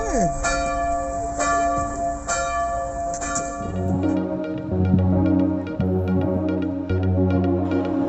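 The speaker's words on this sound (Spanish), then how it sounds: "nos despertó este incesante repicar de campanas que seguía a las 9:30 de la mañana" Church bells in Gdansk, Poland ring without pause in the morning: dense, overlapping metallic strikes with long ringing tails, fairly loud and continuous throughout.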